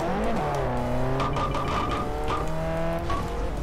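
A car drifting, its tires squealing in long sliding tones over a loud revving engine that rises and falls, heard close and without voices.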